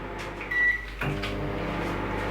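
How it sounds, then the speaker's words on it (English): A microwave oven runs on full power with a steady low electrical hum, alone and close, with a brief higher tone near the start. "we're going to microwave them on full power"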